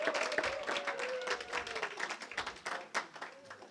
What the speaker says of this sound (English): Those are all former teenagers clapping.